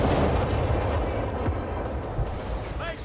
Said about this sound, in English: The Nebula firing way here.